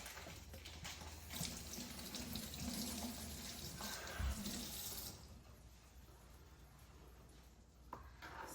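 Tap water runs into a sink over pre-cut vegetables, a close steady splashing stream for about five seconds, then cuts off, leaving quiet room tone with a faint clatter near the end.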